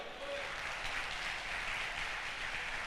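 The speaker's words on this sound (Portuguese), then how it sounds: "Aplauda o Senhor." Steady crowd applause from a Baptist church congregation in São Mateus during a service fills the whole stretch, a dense wash of many hands clapping at once without pause.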